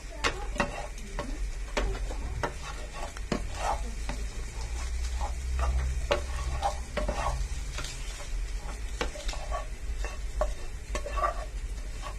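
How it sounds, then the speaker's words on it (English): Scrambled eggs with pepper are stirred around in a frying pan, a steady sizzle under repeated scraping and tapping of the utensil against the pan, close and fairly quiet, with no talking. "stirring it around again"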